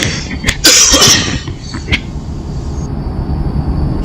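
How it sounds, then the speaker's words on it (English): A single sharp cough bursts out near the microphone during a live-streamed American Truck Simulator session, followed by a brief throat-clearing sound over steady low engine-like background noise. "I really need a cough button. I cough too often"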